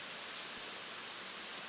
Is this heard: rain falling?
yes